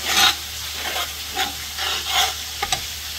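Onions and ground spice paste fry steadily in a pan for a Bengali fish curry, a constant close sizzle with stirring scrapes swelling and fading in rhythm and a couple of sharp clicks near the end.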